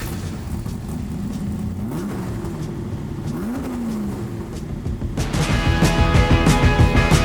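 A Ford GT40 Mk II replica's engine rumbles, rises through two revving swells, then surges in a louder, harsher acceleration heard from close by.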